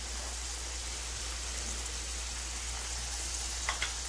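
Masala with chopped green chillies for mutton biryani fries in a pan with a soft, steady sizzle under a low hum, and a couple of faint clinks come near the end.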